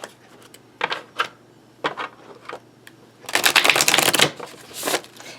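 Thick-cardstock Crow tarot cards are shuffled by hand in short riffling bursts, first a few quick separate flicks, then a longer, louder run of rapid shuffling close to the listener, with no talking.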